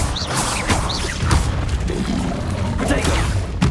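A Levioso spell being cast in Hogwarts Legacy gives a dull boom-like magical burst with whooshing sweeps over a busy game soundscape, close and steady in loudness for a few seconds.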